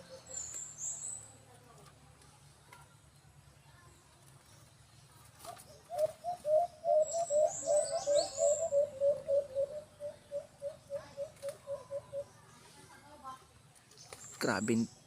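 Outdoors, birds give a rapid run of repeated chirping notes in the middle, with scattered faint calls before and a loud burst at the end, over low background hum.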